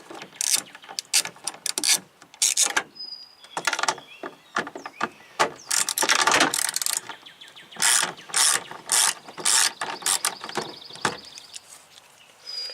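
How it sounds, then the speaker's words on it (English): A ratchet wrench loosens the 10 mm bolts holding a manual tow mirror on a 2001 Chevrolet Silverado 2500HD. Close, loud bursts of rapid clicking repeat with short pauses in between. "we're going to be using my ratchet right here"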